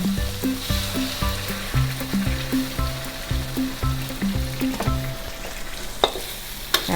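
Young tamarind chili paste with a little water is stir-fried in a pan, a steady loud sizzle under repeated rhythmic scraping of a spatula, the strokes coming in an even pattern before fading to plain sizzling.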